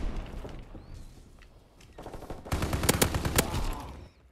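BAR rifle fire in the video game Call of Duty WW2, bursts of automatic shots that build from scattered cracks into a loud, dense rattle before cutting off.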